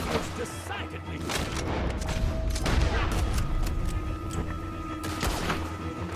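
Gunfire in the video game Red Dead Redemption 2 comes as repeated sharp bangs and booms scattered through a dense, continuous game soundscape, with a player's voice heard over it.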